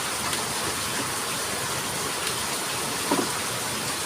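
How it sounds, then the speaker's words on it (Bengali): Heavy rain pours in a continuous, even wash, close and loud, with one brief knock partway through and no talking. "খুব বৃষ্টি হচ্ছে।"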